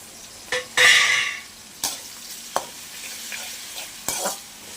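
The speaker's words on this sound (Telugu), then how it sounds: "ఇలా నీట్గా ఫ్రై చేసుకుంటూ ఉండాలి ఆనియన్ అనేది ఈ విధంగా ఫ్రై అయిపోతే సరిపోతుంది" Onions frying in a pan for street-style egg noodles: a close sizzle broken by loud metallic scrapes and clanks of a spatula against the pan, no voices.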